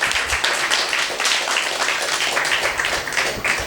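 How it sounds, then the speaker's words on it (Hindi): An audience at a poetry show claps in dense, steady applause that holds an even loudness throughout, with bright, crisp claps close by. "तो एक बार इस बात पे ज़ोरदार तालियां होनी चाहिए।"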